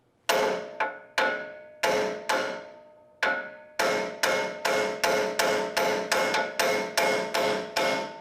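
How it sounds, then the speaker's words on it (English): Sharp metallic hammer blows on the side of a car suspension part to pop a ball joint loose, a few spaced strikes followed by a rapid run of steady, ringing hits, loud and close. "take a hammer, and I just like to put it right here on the side and wrap it a few times"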